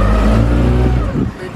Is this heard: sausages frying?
no